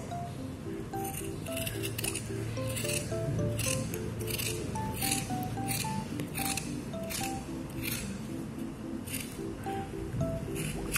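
Scissors cutting through old denim pants to make shorts, a steady series of crisp snipping chomps and fabric crunches repeating at close range, with light music playing underneath.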